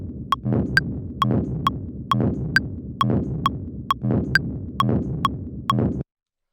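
A deep dark industrial techno percussion sample looping under a bright ticking metronome, with low thuds and crisp clicks repeating in a steady even pulse.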